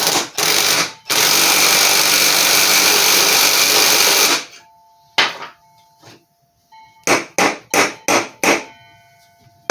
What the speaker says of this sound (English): One good thing about using this impact though, it's less likely to break my pulley.